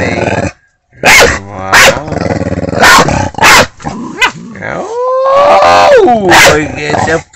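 A puppy barks in sharp bursts and growls between them, close by, while people talk excitedly over and around the noise.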